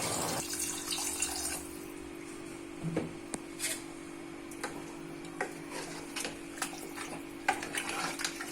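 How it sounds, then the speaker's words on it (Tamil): Water is added to a pot of mutton curry with potatoes as a quiet, soft splashing and trickle, with light clinks of utensils and no talk. "மட்டன் குழம்புக்கு தேவையான தண்ணி சேர்த்துக்கிறேன்."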